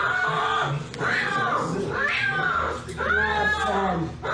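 A cat yowls and caterwauls in distress, its drawn-out wavering cries rising and falling in repeated waves over steady background noise, loud and close throughout.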